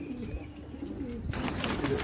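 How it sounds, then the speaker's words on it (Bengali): Pet pigeons coo in low, rolling calls that continue steadily through the moment, close by and moderately soft, with no voices present. "তারপরে এখানে আরো কবুতর আছে"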